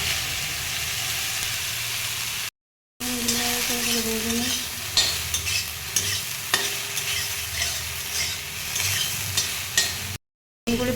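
Soybean chunks fry with a steady broadband sizzle in a pan, broken by scraping stirs of a spatula and a couple of brief cuts to silence, with no talking.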